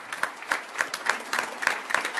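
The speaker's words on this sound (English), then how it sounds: "these folks need a huge round of applause" An audience applauds at a fire department ceremony, a short stretch of scattered, moderately close hand clapping with regular sharp claps standing out from the patter.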